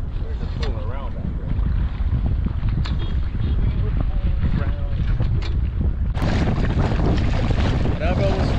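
A Sunfish sailboat underway on open water, with steady wind buffeting the microphone and continuous rushing water and spray throughout, growing louder toward the end; a voice speaks briefly over it.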